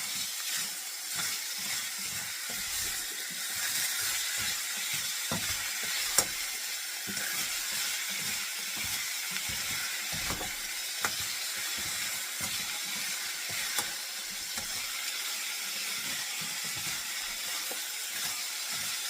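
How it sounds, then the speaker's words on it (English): Cut-up meat sautés in a hot pan during meal prep, a steady close sizzle and hiss running throughout with scattered stirring scrapes and clicks. "I'm just going to dump it in like so. And kind of get it spread it out and saute it along with it"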